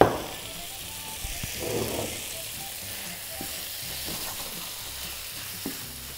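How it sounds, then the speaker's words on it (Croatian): Chicken pieces simmering and frying in a pan for a chicken-with-cashew dish make a soft, continuous sizzle close by, dotted with a few light clicks and stirring sounds, and no talk. "Dok se piletina lagano krčka"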